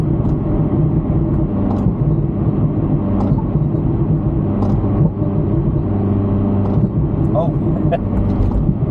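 Inside a Honda CRX 1.6 with a D16A9 engine pulling in third gear around 3,000 rpm, a steady droning engine rumble dominates throughout, with voices talking over it.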